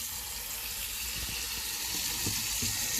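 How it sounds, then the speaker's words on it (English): Sliced spinach is washed in hot water in a kitchen, giving a soft, continuous run of water with a few light splashes and taps. "So I'm going to be washing it now."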